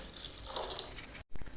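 Water splashes and trickles into ragi rava dosa batter in a mixing bowl, a short, soft liquid pour close by that ends in a sudden break and a small knock.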